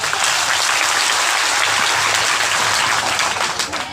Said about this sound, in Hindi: आपकी तालियों में जोर होना चाहिए। एक बार जोरदार।